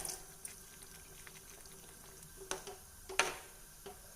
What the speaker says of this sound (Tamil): அதனால் நான் கொஞ்சம் தண்ணி விடுறேன்.